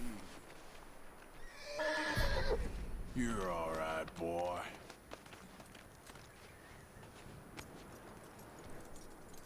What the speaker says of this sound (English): That looks like a decent horse.